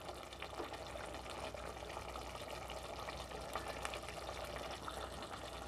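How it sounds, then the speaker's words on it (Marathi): Hot water poured from a glass into green mutton sukka cooking in a pressure cooker, a steady close splashing gush that runs without a break, with no talk. "मी अजून थोडं पाणी घालणार आहे, म्हणजे साधारण 1 ग्लास पाणी आपल्याला लागलेलं आहे."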